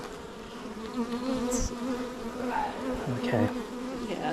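Honey bees buzz close around an open beehive during an inspection, a steady hum with individual bees darting past, while a person speaks briefly over it.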